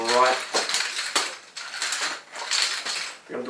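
Nunchaku chain rattling in quick metallic bursts as the sticks are swung, a run of close clinking jangles with short pauses between swings.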